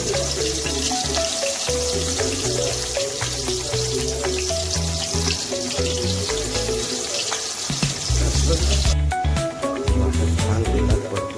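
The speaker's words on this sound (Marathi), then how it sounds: "वाटप छान तेलात परतून घ्या" Ground masala paste for misal frying in plenty of hot oil, giving a steady, loud sizzle that runs throughout with no pauses.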